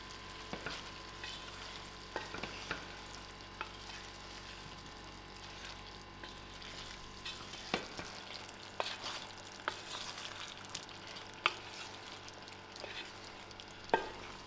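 Luffa (ridge gourd) and dubla bean curry sizzling faintly in a pan while being mixed, soft steady frying hiss broken by sharp scraping and clinking stirs every couple of seconds, heard close without talk.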